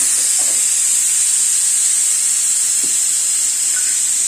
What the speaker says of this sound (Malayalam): നമ്മൾ വറുത്ത് മിക്സിയിൽ അരച്ചില്ലേ, ആ അരപ്പെല്ലാം അതിലോട്ട് ഇട്ടു.